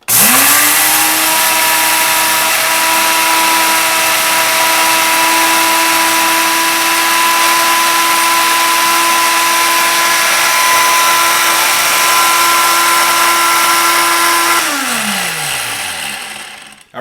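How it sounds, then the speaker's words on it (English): A Montel Williams blender grinds flax seeds, its motor spinning up quickly to a loud, steady whine that holds for about fourteen seconds before winding down as it is switched off. "First, we're going to use the Montel Williams blender. So let's go ahead and turn it on"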